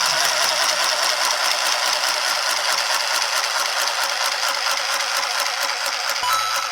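A small battery-powered mini sewing machine stitches fabric with a fast, steady mechanical chatter and rattle. It runs continuously and close, then stops at the very end.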